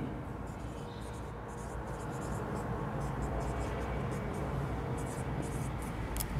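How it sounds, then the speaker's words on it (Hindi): Pen strokes on a board as a sentence is written during a chemistry lecture, a faint irregular run of short scratchy taps over a constant low room hum. "इसके लिए मैं एक सेंटेंस लिख रहा हूं"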